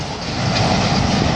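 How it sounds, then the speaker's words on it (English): Freight train hauled by a class 37 diesel locomotive passing a station at Wigan North Western, a loud, steady rumble of wagons rolling by close at hand with no talking. "Another freight."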